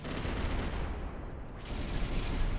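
Dense, continuous rumbling barrage of cannon fire in the Symphony of War strategy game, thick low booms blending into one sustained roar without pauses.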